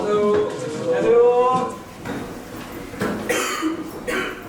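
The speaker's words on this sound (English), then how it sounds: "Someone's coughing." A few hoarse coughs from a nearby person, loud then fading, with some muffled background noise and a brief clatter.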